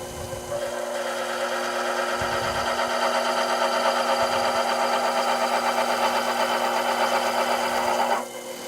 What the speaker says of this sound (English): So now we just did some facing and a quick chamfering operation there.